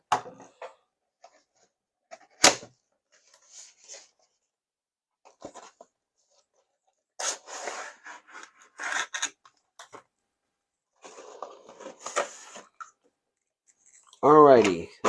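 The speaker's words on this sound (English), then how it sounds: "I'm pulling out my trusty Craftsman lock blade and let's give this thing a swirl" A Craftsman lock-blade knife slices open the plastic package of a G.I. Joe Classified figure in short rasping, scraping bursts with clicks and quiet gaps, close up, and a brief voice is heard at the end.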